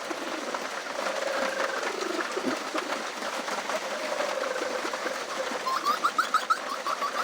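A male bird in a pen outdoors in the rain calls his hens over with low, soft cooing sounds, followed by a short run of quick pulsing clucks near the end, over a steady hiss of rainfall.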